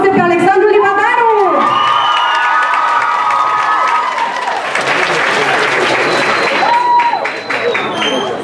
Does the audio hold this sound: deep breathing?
no